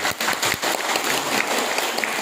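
An audience of school principals at a training session applauds, a dense, steady wash of clapping from many hands that carries on without a break for a couple of seconds.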